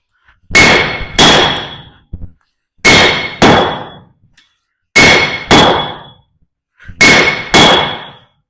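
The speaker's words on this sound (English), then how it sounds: "You're gonna strike your hammer right here on the anvil, bounce it off, and then hit the bolt." A hammer rings loudly on an anvil and then strikes a cold, unheated steel bolt, in four close double blows with bright metallic clangs that ring briefly after each strike.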